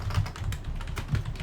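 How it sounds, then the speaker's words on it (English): Steady keyboard typing up close, quick clustered keystrokes in a loose rhythm over a low rumbling background. "typing in the name of the event"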